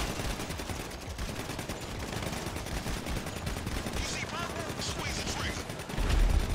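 Shotgun fire in the video game GTA V Online comes as bursts of gunfire within a dense, busy game mix, fairly faint and continuous with no clear pauses.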